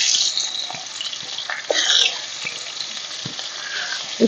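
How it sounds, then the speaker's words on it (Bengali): Pieces of snakehead fish, rubbed with salt and turmeric, fry in hot mustard oil in a kadai with a loud, close, bright sizzle and spattering crackle, with a few soft knocks from stirring. "এবার আমি মাছগুলো ভেজে নেব।"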